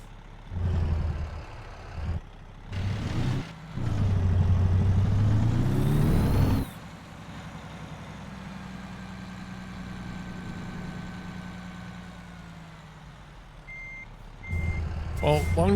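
Truck in American Truck Simulator reversing, with an engine rumbling loudly and bursts of activity early on, then a steady idling drone; a high, evenly spaced reversing beep sounds near the end.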